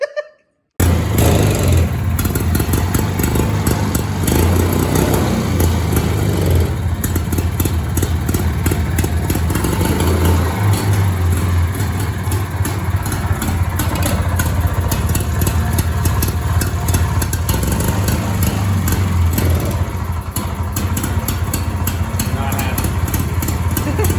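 A go-kart fitted with a snowblower engine runs nearby, a loud, continuous buzzing putter that holds a steady idle throughout, with voices speaking over it.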